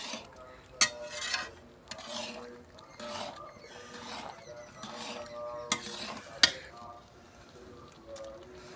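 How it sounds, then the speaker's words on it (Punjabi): Carrot halwa being stirred in a pot, a metal spatula repeatedly scraping and clanking against another spatula in an irregular rhythm, with a few sharp louder knocks, close by and moderately loud. "ਮੰਮੀ ਖੁਰਪੇ ਤੇ ਖੁਰਪਾ ਮਾਰੀ ਜਾਂਦੀ ਆ ਮੰਮੀ ਕਹਿੰਦੀ ਕਿਤੇ ਥੱਲੇ ਨਾ ਲੱਗ ਜਵੇ"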